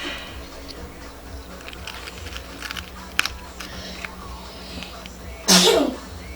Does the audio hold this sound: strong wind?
no